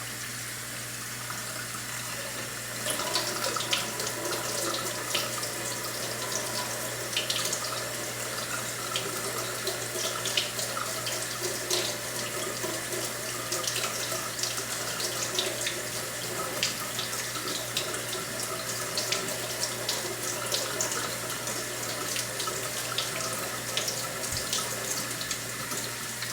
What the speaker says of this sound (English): Next, cold water.